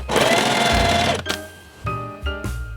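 A sewing machine runs a zigzag stitch, one long loud whirring burst followed by a few shorter stop-start runs, close and clear with no talking.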